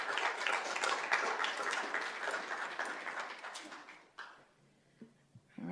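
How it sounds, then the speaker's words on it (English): Audience applause at a school board meeting, a steady broadband patter for about four seconds that cuts off abruptly, followed by quiet room noise with a few faint knocks. "Round of applause again for our two students here."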